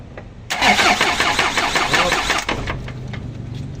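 An Isuzu 4HF1 diesel engine with no fuel reaching it cranks loudly up close, a steady rapid starter churn running about two seconds before easing into a lower rumble that does not catch.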